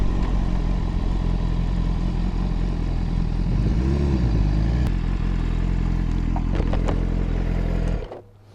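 A 2018 BMW S1000RR engine, restricted to 8,000 rpm while being run in, drones loudly and steadily at high revs, held without climbing further, then dropping away abruptly near the end.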